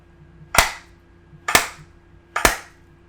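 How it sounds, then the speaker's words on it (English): Three sharp hand claps for audio sync, evenly spaced about a second apart, crisp and close in an otherwise quiet room with a faint hum. "You probably need me to clap again."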